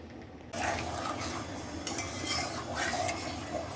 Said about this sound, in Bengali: আমি এখন মাছটাকে ঝোলটাকে ভালো করে একটু কষিয়ে নেই